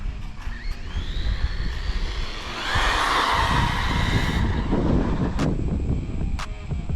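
A 16150-chassis RC car on a speed run whines as its motor winds up in a rising pitch, then rushes past in a louder broadband swell before fading, heard over steady background noise.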